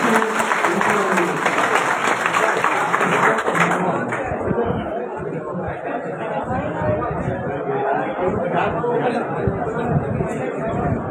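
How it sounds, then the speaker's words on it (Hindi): Loud, dense applause from a crowd gathered at an oath-taking ceremony for thirteen council members, sustained throughout with chatter and voices mixed in, easing slightly after the first few seconds but continuing. "मैं आप सभी से अनुरोध करूंगा एक बार जोरदार तालियों के साथ सभी लोगों का स्वागत करें।"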